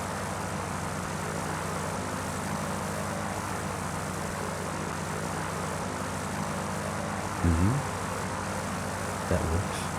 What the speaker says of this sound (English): Seems like the plane's working to me.